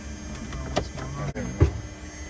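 Robinson R44 II helicopter engine turned over by its starter with the throttle rolled fully down: a close, whirring electric motor drone with a couple of brief clunks and surges, no firing.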